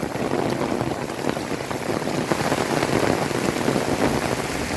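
Steady rain falls and patters on nearby surfaces, a continuous close hiss of drops with no voices over it.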